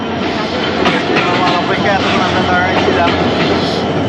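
A passenger train passes through Ullapara railway station, its continuous rumble and clatter filling the clip, close and loud under a person talking briefly nearby.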